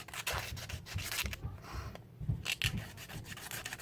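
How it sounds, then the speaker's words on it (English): An old CD's plastic edge is shaved and sanded with 120 grit sandpaper to shape a guitar pick, making close, quiet rasping strokes that come in uneven bursts with short pauses. "start shaving off plastic from the side here"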